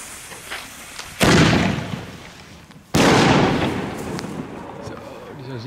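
Two loud firework salute bangs a couple of seconds apart at a New Year's Eve celebration, each a sharp blast that decays into a long rumbling echo, with faint voices after.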